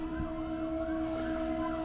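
An emergency vehicle siren on a road near an Orlando home, a steady high wail held throughout at moderate distance, with faint background noise beneath it.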